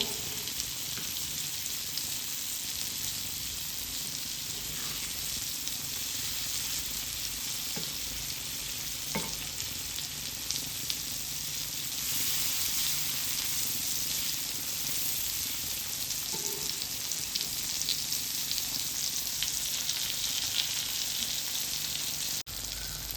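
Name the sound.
pomfret fish frying in a pan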